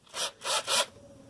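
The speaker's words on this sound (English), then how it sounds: "take steel wool" Three rough rubbing strokes of steel wool in quick succession on RC car suspension hinge pins, each a harsh scratchy burst, close by, followed by quiet.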